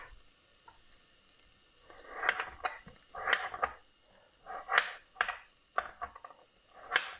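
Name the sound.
onion sizzling in a pot while being stirred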